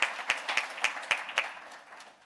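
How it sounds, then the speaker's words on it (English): Audience at the 12th Neville Alexander Annual Memorial Lecture applauding, heard as faint, fairly distant, evenly spaced claps in a steady rhythm that thins out toward the end. "May I request a round of applause from all of us who are in attendance virtually and"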